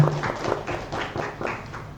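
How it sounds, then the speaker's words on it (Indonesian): An audience at a live cultural talk show gives a short round of applause, a soft, somewhat distant patter of scattered claps in a loose rhythm. "Beri tepuk tangan yang mulia."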